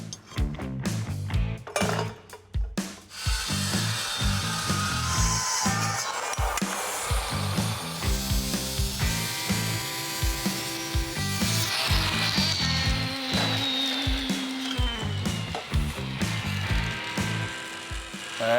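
A power tool cuts through steel body panel metal on an old OBS Chevy truck under rust repair, giving a loud, sustained harsh grind broken by short pauses and clinks of metal, with no voices.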